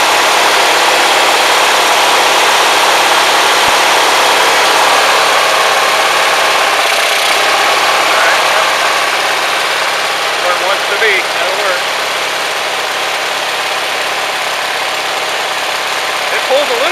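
A small Vaper's 001 engine runs steadily and close, a loud continuous idling drone with a mechanical buzz that holds nearly constant for about seventeen seconds.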